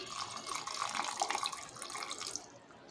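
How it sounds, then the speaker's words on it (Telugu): Water streams steadily from a tap into a bowl of tamarind, a gurgling pour that fades out near the end. "ఇందులో వాటర్ పోసుకుందాం"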